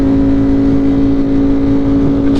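A 200 horsepower commuter motorcycle pulling in fourth gear on a cold day, a close, loud, steady engine whine and exhaust roar held at a fairly constant pitch with wind noise, no talking.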